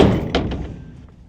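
A heavy dumpster-area door bangs shut with one loud thunk, followed by a couple of quick rattling thuds that fade away.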